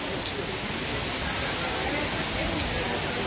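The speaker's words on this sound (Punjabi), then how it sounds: "ਸੀਜ਼ਨ ਦੀ ਪਹਿਲੀ ਬਰਸਾਤ" Steady rain, the first of the season, pours down in a dense, even hiss, close and continuous throughout, in Sunam city, Punjab.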